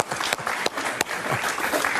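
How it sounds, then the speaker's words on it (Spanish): Studio audience applause on an Argentine TV talk show during a discussion about an economist, steady dense clapping throughout with a few sharper claps standing out, moderately loud and unaccompanied by talk. "Está un aplauso para José Luis."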